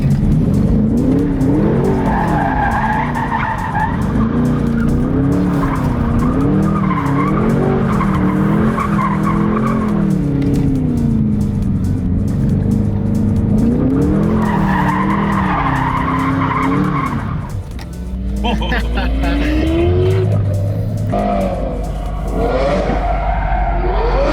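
Two Lamborghini SV cars drifting: loud engine revs rise and fall while tires squeal continuously, with sliding passes and shifting pitch through the whole stretch and no talking.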